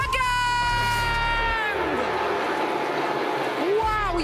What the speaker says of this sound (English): Wow, you can hear the crowd.